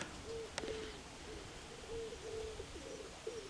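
Pigeons coo in a dovecote, soft low phrases repeating through the stretch, close and moderately loud, with one sharp click early on and a faint background hiss.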